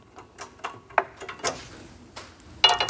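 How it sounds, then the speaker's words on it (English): Small grub screws turned by an Allen key into the side grooves of a soft-close larder frame make faint, irregular ticks and scrapes, spaced apart with quiet gaps. "just twist these grub screws in until they engage in the grooves at the side of the frame"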